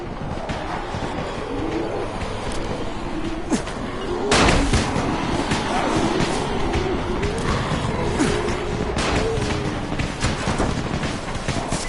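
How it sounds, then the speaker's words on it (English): Firecrackers burst amid a crowd of zombies in the video game Dying Light, a loud sharp crack near four and a half seconds followed by fainter pops over a constant, noisy game ambience. "You still have some firecrackers, don't you? Just throw some into the crowd."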